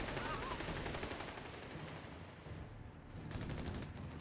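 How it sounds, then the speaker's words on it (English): Heavy machine gun fire in the video game Company of Heroes 3 rattles in dense continuous bursts with battlefield noise, steady and moderately loud, broken by a brief lull before the firing picks up again. "Heavy machine gun going to suppress all those units, though."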